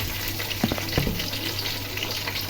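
Chopped onion, bay leaf, cardamom, cinnamon and other whole spices fry in hot oil, giving a dense, constant sizzle close by, broken by a couple of brief clinks as they are added.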